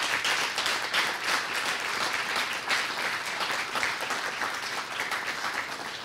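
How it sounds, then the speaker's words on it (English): Sustained audience applause at an alumni awards ceremony for the award recipients, a full, even roomful of clapping that holds steady throughout. "Please give a round of applause one more time for our 2022 Alumni Award recipients."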